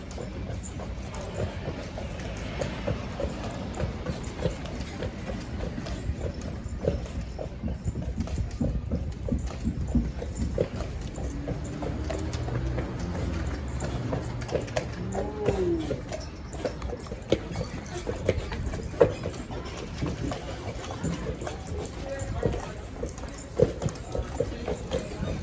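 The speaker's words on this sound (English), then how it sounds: "Hopefully you didn't mind bearing with me, a real slow horse today." Horse hooves clip-clop at a slow, steady pace on a street in Charleston, with a constant background rumble and occasional louder knocks.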